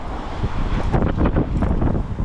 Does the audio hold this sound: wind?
yes